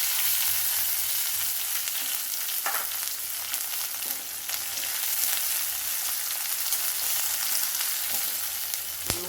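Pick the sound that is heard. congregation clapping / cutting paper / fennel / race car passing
fennel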